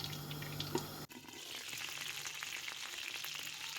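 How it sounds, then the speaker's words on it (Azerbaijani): Eggplant slices fry in butter in a pan. A soft, brief clatter comes first, then a steady, bright sizzle close by with no talking. "Yağ tam isindikdə badımcanları yağın içərisinə düzürəm"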